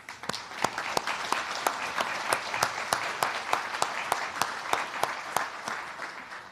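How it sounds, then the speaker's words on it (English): Audience at a ministerial meeting of the Global Coalition to Defeat ISIS applauds to welcome the Iraqi Foreign Minister, a fairly thin, rhythmic clapping with distinct individual claps over a soft room background, sustained at a moderate level throughout. "Let's give him a round of applause."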